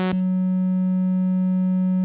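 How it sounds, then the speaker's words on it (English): A synthesizer oscillator plays a pure sine wave, a steady, loud, unwavering low tone held throughout after a brief click at the start, with no other sound. "So this one is the sine wave here. Sine wave, only one frequency, the root one."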